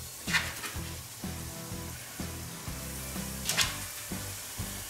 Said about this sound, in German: dann können wir da jetzt die Zwiebelringe reintun